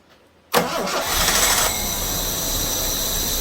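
A 1976 Jaguar XJ6 Series 2 under restoration cranks and catches after a short silence, then settles into a loud, steady idle close by, with no talking.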